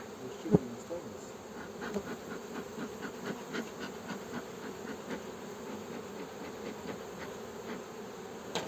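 Honey bees buzz around an opened beehive during a spring colony expansion, a dense, steady close-up drone with one sharp knock near the start.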